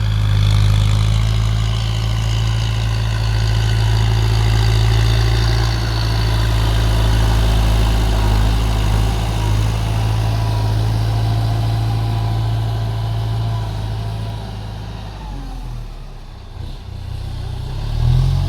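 A Kubota M108S tractor with an air-conditioned cab runs while levelling land, its engine giving a loud, steady low rumble that eases off near the end.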